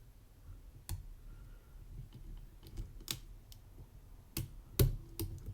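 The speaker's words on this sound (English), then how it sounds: "A little click on 5." Faint, sparse sharp clicks of lock pins being set while a DOM oval cylinder is picked with a hook, a handful of isolated ticks scattered over quiet background.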